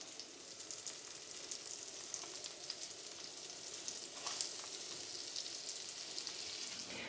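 Venison medallions fry in hot oil with a steady, crackling sizzle and scattered pops, fairly quiet and uninterrupted throughout.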